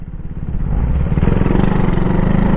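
A KTM motorcycle engine, likely the new Duke 390, runs steadily while being ridden, a close, continuous low throbbing hum that swells slightly in the first second and then holds, with no talk over it.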